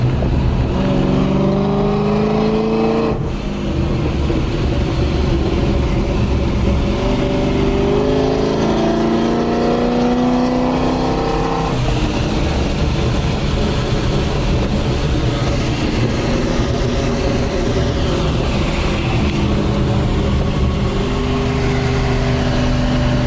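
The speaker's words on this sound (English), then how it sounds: "I'm gonna show you like the back pressure pops and stuff." Supercharged Pontiac G8 (Holden) V8 with worn motor mounts revs repeatedly, engine roar rising and falling with rough rumbling and back-pressure pops, close and loud throughout with no talk.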